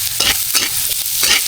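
Onions sautéing in a hot pan: a steady close sizzle of frying with several soft scraping stirs recurring through the short stretch, no voices over it.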